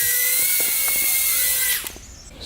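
Tiny brushed motors of a BoldClash BWhoop B03 altitude-hold micro drone whine steadily at a high pitch and close range, then the loud whir suddenly drops away as they slow.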